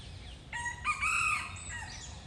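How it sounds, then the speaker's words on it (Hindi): A wild junglefowl rooster crows once in a forest, a clear, moderately near cock-a-doodle-doo rising and falling over about a second, set against quiet outdoor background noise. "ये तो जंगली मुर्गे हैं, कितने एक्टिव लग रहे हैं यार"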